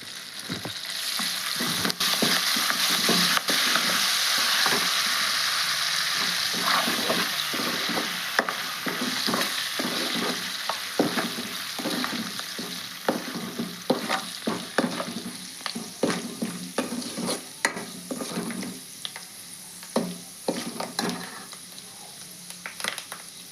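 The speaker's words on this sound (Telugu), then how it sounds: "కరివేపాకు కూడా బాగా చిట్పట్లాడుతుంది." Curry leaves and tempering spices (popu) with dried red chillies spluttering in hot oil: a loud, steady hiss of frying that thins into dense, rapid crackles and pops toward the end, close up and with no speech.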